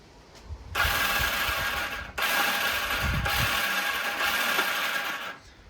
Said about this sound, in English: So the starter kicks, but it doesn't engage the engine.